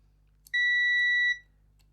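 A multimeter set to continuity gives one short, clean electronic beep of under a second while a circuit board trace is checked on a Sega Mega Drive, with a faint hum in the background.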